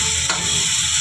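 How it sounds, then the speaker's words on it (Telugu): Tomato pieces fry with onions in a pan, giving a steady, bright sizzle with a brief stirring scrape, close and alone. "కట్ చేసి పెట్టుకున్న మనం టమాటీ ముక్కలను వేసుకుంటాం. వేసుకొని మనం కాస్త వేపుకోవాలి."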